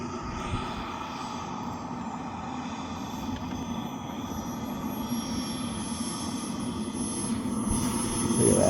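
A Hangar 9 Hawk radio-controlled model jet flies overhead with a steady turbine whine and roar that grows louder toward the end, heard alone outdoors.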